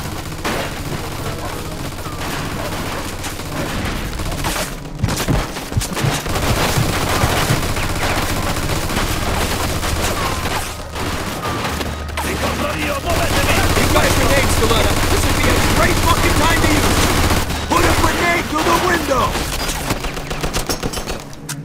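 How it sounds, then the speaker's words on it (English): Sustained machine gun fire from Mafia II: Definitive Edition gameplay, loud rapid bursts with booming impacts and brief pauses, continuing for over twenty seconds amid battle noise. "Looks like we found the machine gun!"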